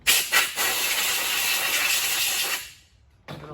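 Compressed air blasts over a Zodiac CX20 pool cleaner part in a loud, steady hiss after two short bursts, cutting off abruptly before a brief final puff.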